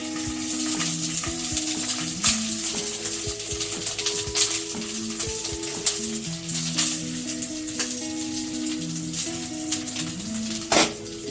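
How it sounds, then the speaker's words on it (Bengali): Steady sizzling and crackling of rice frying in hot ghee over low flame, with occasional clinks and scrapes of a utensil against the pan. "ঘিটা গরম হয়ে গেছে, আমি এর উপরে ভাত কিছুটা দেবো, লো ফ্লেমে রাখবো।"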